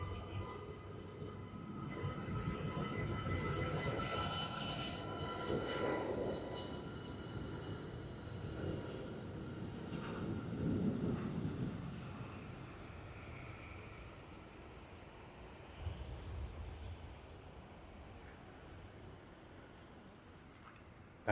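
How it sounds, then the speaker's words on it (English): An Airbus A380 heavy jet departs Sydney Airport as a broad, deep engine roar that swells, holds, then gradually fades into the distance. "Let's enjoy the heavy departure, the first A380 departure"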